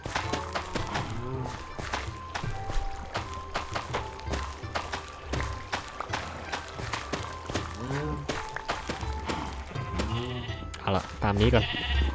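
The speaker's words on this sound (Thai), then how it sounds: "ต่อไปก็ไอ้พวกแกะ" Sheep bleat over and over in Minecraft while the animals are fed, in a dense, busy mix of bleats, footsteps and game thumps that keeps going throughout, with a voice talking underneath.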